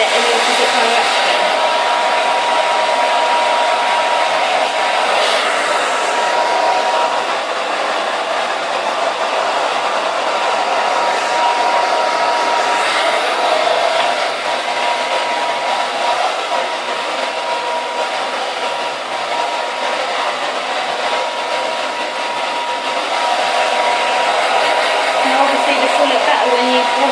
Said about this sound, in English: you want to blow dry it in the opposite direction